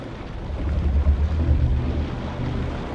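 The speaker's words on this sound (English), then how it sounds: "it's windy" Wind blows in the Never Alone video game, a steady low rushing that swells and eases, with no voices.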